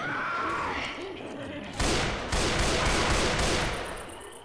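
Gunfire in Left 4 Dead: a dense, rapid run of loud shots starts partway through and carries on to the end, after a quieter stretch of game noise at the start.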